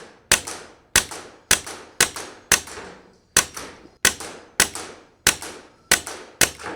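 A small semi-automatic airgun fires a rapid string of about eleven sharp, loud cracks at a steady, quick pace while a magazine is emptied, with no talking over the shots.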